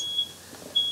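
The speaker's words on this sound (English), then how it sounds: "Alarm's going off!" A smoke alarm gives two short, sharp electronic beeps about half a second apart, loud against a quiet room with no talking.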